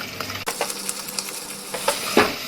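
Kasuri methi roasting in a pan of dal makhani masala over medium heat, a soft sizzle broken by repeated scraping and clinking of a spoon against the pan.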